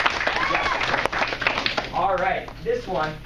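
Classroom applause for a student after a speed-chat presentation, a broad wash of clapping from a group that carries through the clip beneath a teacher's nearby speech.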